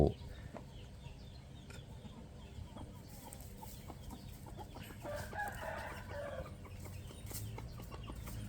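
Chickens cluck and a rooster crows in a backyard behind a house, a steady outdoor barnyard din of short calls with a louder crow rising midway, continuous throughout.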